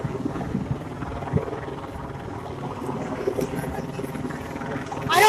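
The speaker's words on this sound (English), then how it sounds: "Where the helicopters are above" A helicopter drones overhead near the US–Mexico border, its rotor rumble low and continuous, with wind buffeting the microphone and a brief rustle at the end.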